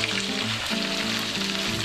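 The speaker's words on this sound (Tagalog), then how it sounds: "Lalagay na natin ang corned beef." Corned beef fries with garlic in hot oil, a loud, steady sizzle and crackle with a low hum underneath and no talking.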